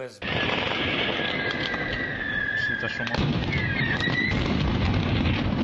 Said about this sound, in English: A series of explosions and sustained gunfire broke out in Enerhodar main square near to the nuclear plant at Zaporizhzhia.